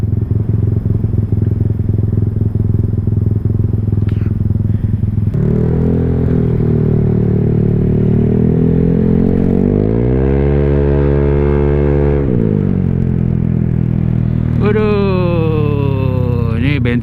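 A Honda Vario scooter idling high with a faulty IACV sensor after sitting unused, a loud, steady close-up engine drone that rises and wavers in pitch near the end.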